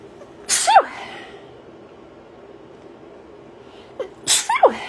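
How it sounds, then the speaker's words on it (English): Two loud, close human sneezes, one near the start and one near the end, separated by quiet room tone. "I feel like that sneeze is finally coming."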